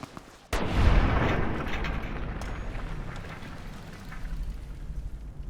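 Gunfire in the video game Fallout: New Vegas Lonesome Road, a sharp crack followed by a loud, rumbling blast that slowly decays into a lingering rolling tail.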